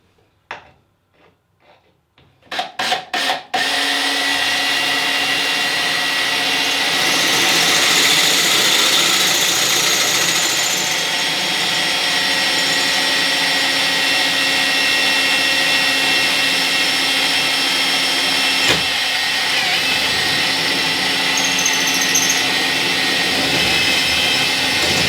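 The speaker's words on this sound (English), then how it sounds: "And then just carefully start to drill the hole." A drill boring a hole in tile starts with a few short bursts, then runs at a steady, loud whine for over twenty seconds, close by and alone.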